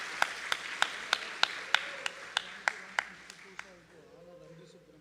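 An audience applauding a performer at an evening birthday concert, heard as a run of sharp, evenly spaced claps that thin out and stop after about three seconds, leaving quiet room tone.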